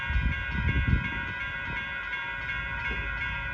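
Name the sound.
northbound Union Pacific freight train passing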